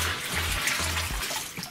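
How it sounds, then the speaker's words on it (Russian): Water poured into a folding PVC bucket, a steady broadband splashing and trickling that runs continuously and fairly close, with a few low thumps underneath. "наливать и сливать в него воду"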